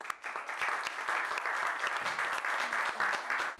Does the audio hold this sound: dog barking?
no